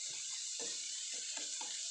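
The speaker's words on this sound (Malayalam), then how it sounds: "ഇത് വേവാൻ ആവശ്യത്തിനുള്ള വെള്ളം കൂടി ഒഴിച്ച് വെച്ചിട്ടുണ്ട്" Water pours steadily into a pan while rava upma cooks, a constant bright hiss with soft bubbling and low thumps beneath it, no voices.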